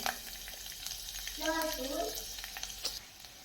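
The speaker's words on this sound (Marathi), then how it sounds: "आपण कढईत तेल तापत ठेवलेलं आहे त्यामध्ये घालून घेणार आहोत लसूण" Steady crackling sizzle of garlic frying in hot oil in a kadhai, with a brief stir and scrape partway through, close and fairly loud throughout.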